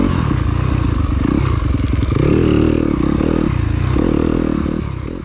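A 2021 Yamaha YZ250FX dirt bike engine runs loud and steady up close on a dry, dusty enduro trail, its note rising and holding through a sustained rev before easing off slightly at the end.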